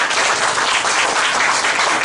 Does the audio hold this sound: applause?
yes